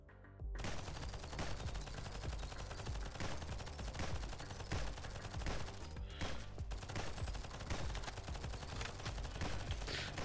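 A flak-upgraded sniper rifle firing continuously in Nimrods Guncraft Survivor, a dense and loud stream of rapid shots with no pauses, over a steady wash of game sound.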